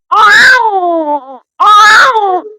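A man imitates a newborn baby crying with his voice, two long wailing cries with a short gap between them, loud and close, with no other sound around.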